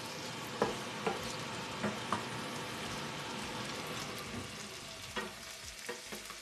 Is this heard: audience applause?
no